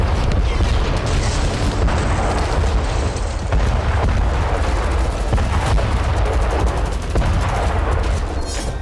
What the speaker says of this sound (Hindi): हिजबुल्लाह ने गैलीली पर 50 मिसाइलों से हमला किया।